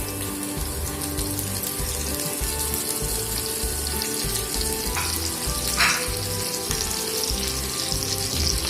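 Whole garam masala, bay leaf and crushed garlic fry in hot oil for a Bengali-style crab curry, a steady, close, dense sizzle running throughout with a couple of brief brighter crackles.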